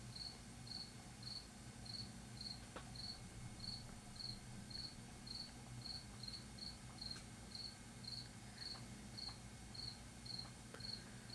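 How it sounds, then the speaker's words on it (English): A cricket chirps steadily in short, evenly spaced pulses throughout, heard in a room behind a low, constant background hum with no talking. "And the cricket is back chirping."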